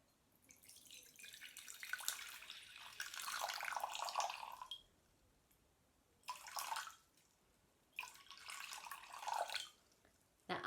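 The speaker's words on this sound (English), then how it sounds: "you're going to need something with a spout or a jug, something you can pour, and something you can pour into" Water poured from a jug into a container, three separate splashing streams of a few seconds each with quiet gaps between, close and clear.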